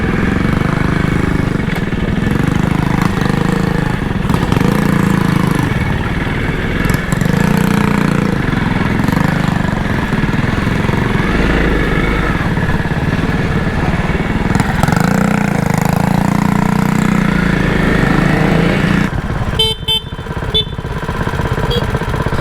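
Motorcycle engine on a muddy trail ride near Copper Harbor, Michigan, a steady loud chugging idle that goes on throughout, with a few faint clicks and a brief rattle near the end.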